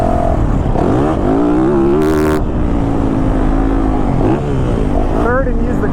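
A 2022 Yamaha YZ450FX dirt bike engine, loud and close, holding third gear while riding, with a steady drone that rises and falls in pitch, under wind noise and a rider talking.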